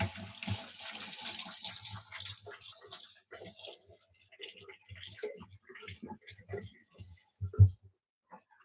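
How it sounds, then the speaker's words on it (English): Hands washed under a running tap, water splashing and trickling in quick bursts near the microphone, with people talking in between and a louder splash near the end. "Let me wash my hands quick"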